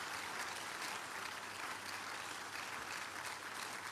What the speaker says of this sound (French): One more time, a big, big hand for Jesus.